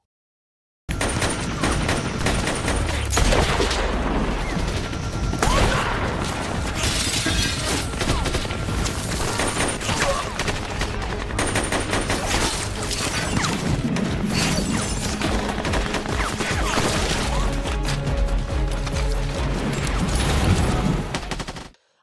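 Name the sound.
gunfire exchange in a war film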